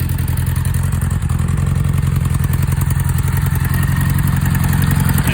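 A motorcycle engine runs loud and close with two of its cylinders misfiring, giving a rough, uneven, clattering idle that holds steady throughout.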